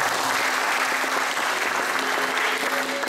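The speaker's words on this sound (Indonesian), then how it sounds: "Boleh tepuk tangan teman-teman." An audience at an event claps continuously in a dense, steady round of applause, with a voice faintly heard underneath.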